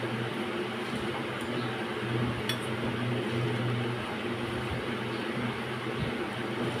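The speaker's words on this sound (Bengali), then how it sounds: "পেঁয়াজটাকে খুব ভালো করে এভাবে আমি কষিয়ে নিচ্ছি।" Chopped onions with dried chili fry in a pan for a Bengali okra mash, with a steady sizzle, close and moderately loud, and light scraping and clinking of a utensil against the pan.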